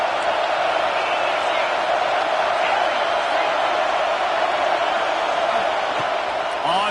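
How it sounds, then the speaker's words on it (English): A packed college football stadium crowd keeps up a loud, unbroken roar of cheering and shouting, with a few faint whoops poking through the steady wall of noise. "This crowd knows when to bring it"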